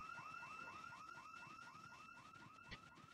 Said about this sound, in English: It is also plagued with house alarms.